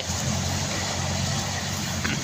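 A six-wheeled truck loaded with 27 tons runs its engine with a steady low rumble, close and continuous, and nobody speaks.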